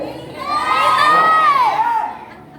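A church congregation at a Sunday service shouts amen together in one loud, swelling collective cry that rises, holds for about a second and a half, then fades.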